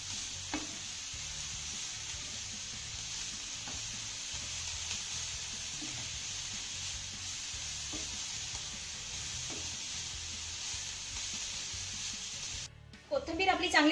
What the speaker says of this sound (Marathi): मिक्स करून झाली की हिला दोन ते तीन मिनटं चांगली परतून घ्यायची आहे